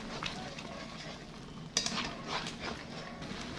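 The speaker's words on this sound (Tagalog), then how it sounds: "Ihulog naman natin ang ating mga ginisang gulay" Sautéed vegetables tumble into a pan of frying pancit canton noodles with a sharp clatter, followed by a steady close sizzle and stirring scrapes.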